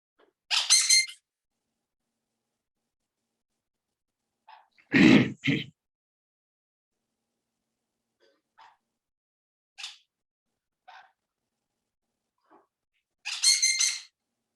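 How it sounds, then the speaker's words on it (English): During an online meeting, sharp squeaks break into near silence: a few short, separate bursts spread unevenly over about fifteen seconds, along with faint small noises in between. "What is that squeaking noise?"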